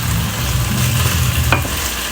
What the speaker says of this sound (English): I am cooking pasta while I make this, so you might hear some cooking noises in the background.